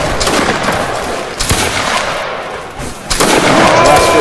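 Musket volley gunfire in a Roblox Napoleonic-era war game battle, a few loud booming volleys and crackling shots over a noisy crowd backdrop.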